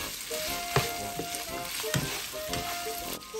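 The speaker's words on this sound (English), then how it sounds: "then onions, let's mix it well." Onions frying and being mixed in a pan for pork pineapple, a loud steady sizzle with several sharp spatula scrapes and knocks close by, no speech.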